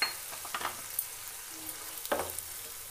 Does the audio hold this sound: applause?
no